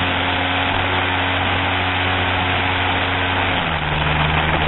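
Pocket bike engine running at a track race, a loud, steady, buzzing drone held throughout, its pitch shifting slightly lower near the end.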